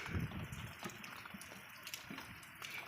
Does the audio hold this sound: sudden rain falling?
yes